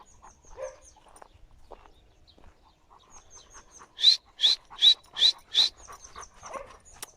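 A female dog pants close by in a burst of five quick, rhythmic breaths, with quieter shuffling sounds before and after.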